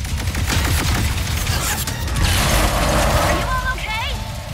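Weapon fire in the video game Ratchet & Clank: Rift Apart, shots aimed at monitors, bursts of gunfire and mechanical clatter running steadily throughout with loud game effects, while a voice talks over the action.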